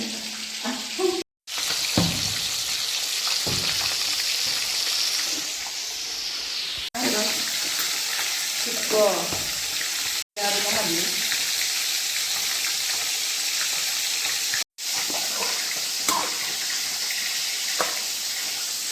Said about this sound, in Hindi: तो गाइस इधर दीदी मछली फ्राई कर रही है